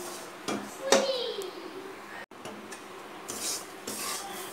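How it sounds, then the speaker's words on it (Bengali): Semolina frying in a pan while a spoon stirs and scrapes it, giving a few rough, rasping strokes at close range with faint voices in the background. "এবার একটু ভেজে নেব, ভালো করে ভেজে নেই।"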